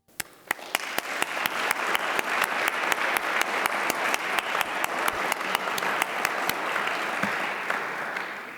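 Warm audience applause at an animal medal ceremony honoring a Wood County, Texas constable's canine, steady dense clapping sustained throughout with a few sharp individual claps standing out near the front.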